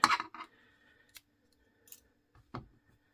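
A few sharp scissor snips cutting crochet yarn while finishing a granny square eyeglass pouch: two quick close cuts, then a couple of lighter clicks and a final snip in an otherwise quiet room.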